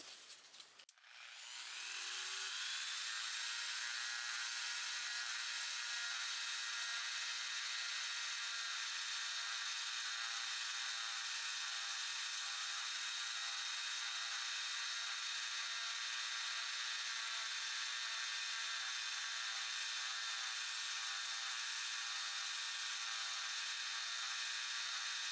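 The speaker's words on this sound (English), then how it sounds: "Polishing brass is always fun." A WEN 2307 rotary tool set just above speed 2 polishing a brass shell case, heard as a steady, continuous high whine that starts after a brief spin-up and holds evenly at moderate level.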